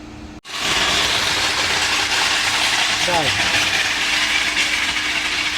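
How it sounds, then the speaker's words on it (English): A SEAT car engine held at 2000 RPM runs steadily, a constant loud mechanical drone with a faint whine, after a brief silence at the start. "I've revved the car up to 2000 RPM"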